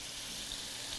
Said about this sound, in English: Hear the sizzling sound?